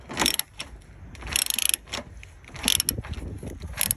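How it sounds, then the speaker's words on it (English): A ratchet backs out a small 7mm headlight bolt on a 2013 Ford C-Max, giving quick bursts of close, crisp metallic clicking with short pauses between strokes. "Take this bolt out."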